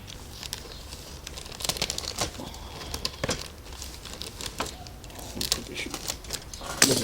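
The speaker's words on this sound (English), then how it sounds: "we've got another bag to cut through here." Plastic bag holding parts of an Italeri S-2E/F/G Tracker model kit being cut open with a worn hobby blade, giving close crinkling and scattered sharp ticks and snips over about seven seconds.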